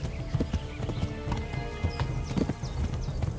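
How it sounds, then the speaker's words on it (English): Horse hooves clip-clop steadily on the ground in Kingdom Come: Deliverance, a medieval open-world game, with repeated near hoof strikes, a brief whinny, and a faint background hum. "There are numerous horses with varied stats in the game."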